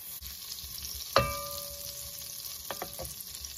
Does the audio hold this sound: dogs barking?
no